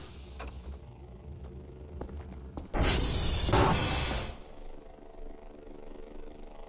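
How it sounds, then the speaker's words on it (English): A drone flying overhead in the video game Voices of the Void, a brief loud broadband whoosh swelling up for about a second and a half before fading back into a quiet mechanical ambience with faint clicks. "Why do I hear the drone?"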